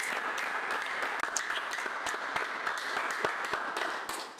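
A church congregation applauds steadily, with dense, continuous clapping and a few sharper claps standing out, under faint background voices.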